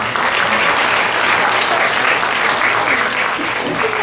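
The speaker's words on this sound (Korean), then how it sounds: "큰 박수 부탁드립니다." An audience at a peace gathering breaks into loud, sustained applause, a thick continuous roar of clapping hands from a crowd filling the whole stretch.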